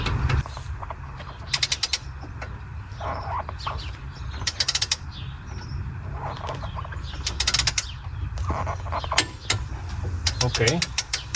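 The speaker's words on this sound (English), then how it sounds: "So now what we can do is tight that lower fastener to 70 Newton meters and 90 degrees." A ratchet tightens the lower front suspension fastener on a Škoda Superb Mk2, with short bursts of rapid clicking repeated several times over a low steady background rumble.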